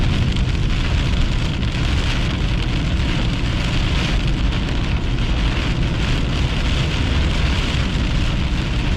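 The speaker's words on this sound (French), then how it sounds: "on a de la pluie horizontale" Heavy, wind-driven horizontal rain pours during a thunderstorm on a June 2024 storm chase, a dense, loud, unbroken roar with no voices.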